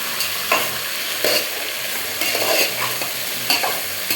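Vegetables such as elephant yam, okra and cluster beans stir-fried with rock salt in a pan, with a loud continuous sizzle and repeated scraping stirs at a steady rhythm and no voices.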